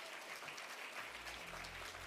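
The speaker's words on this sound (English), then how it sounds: "Let's give him a big, warm round of applause." An audience at an awards ceremony claps in a soft, steady wash of applause that fills the whole moment, with low tonal music or hum entering partway through.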